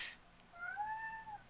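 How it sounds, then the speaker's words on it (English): A domestic cat gives a single faint drawn-out meow, rising then falling, heard quietly in a room after a brief rustle. "oh, but that's my cat."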